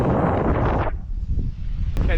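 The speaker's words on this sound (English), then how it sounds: "the wind's blown up and it's shaking like crazy now" Strong gusting wind roars across a swaying suspension bridge in northern Pakistan near Passu, a loud broadband rush that drops off briefly midway before surging again.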